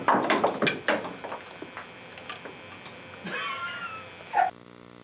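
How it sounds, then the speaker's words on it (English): A cat in a backyard gives a drawn-out meow and then a shorter one near the end, after a run of faint ticking and knocking sounds. "Ted Jr. is playing in the backyard with his cat."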